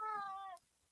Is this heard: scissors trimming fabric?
no